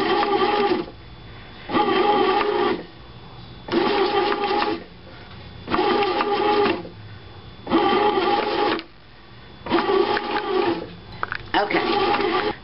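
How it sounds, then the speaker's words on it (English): A Hamilton Beach bread machine kneads and punches down dough with a rhythmic motor whir, running in roughly one-second bursts separated by short pauses, steady and close. "the bread machine has punched all the air out of the bread, which normally you would do by hand"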